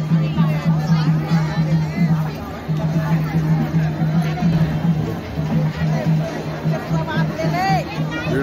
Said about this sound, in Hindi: भीड़ बहुत जबरदस्त है संगवारी यहाँ